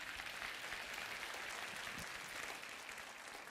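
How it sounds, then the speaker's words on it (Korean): A congregation claps during a Sunday church service, a warm, continuous wash of applause from many hands, even and sustained throughout, fairly soft and distant, with no talking. "여러분 다시 한번 뜨거운 박수 부탁드립니다"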